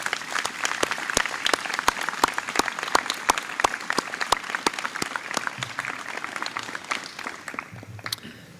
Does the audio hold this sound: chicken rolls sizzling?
no